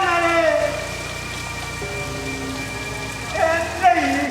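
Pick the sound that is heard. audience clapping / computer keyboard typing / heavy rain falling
heavy rain falling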